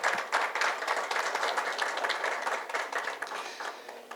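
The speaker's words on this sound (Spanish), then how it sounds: "Un aplauso." An audience at a forum applauds steadily, dense clapping sustained throughout before gradually thinning toward the end.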